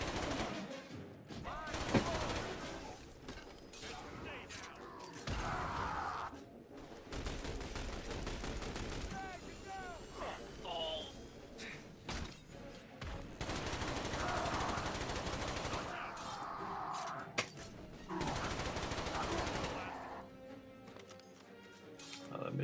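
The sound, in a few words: machine pistol gunfire in a video game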